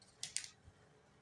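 Scissors snip through a paper sewing pattern for a criss-cross neckline bustier, giving two or three quick, crisp close cuts in an otherwise quiet moment.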